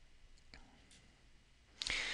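A computer mouse clicks the Save button in D2L gradebook settings, giving a couple of soft, sharp clicks in an otherwise quiet room, the last slightly louder.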